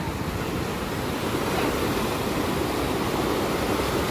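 Loud, steady rushing of flowing water in the Indira Gandhi Canal and Sirhind Feeder fills the scene, a constant roar with no pauses and no voices.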